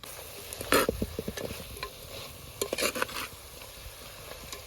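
Chicken curry with garam masala sizzles in a pot while a spoon stirs it, giving a run of close scraping and clinking strokes over a steady low fry, with no voices.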